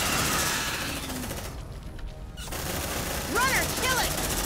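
Suppressive gunfire in the Aliens: Dark Descent video game, rapid bursts of rattling shots amid battle noise and shrill creature shrieks, with a short lull in the middle.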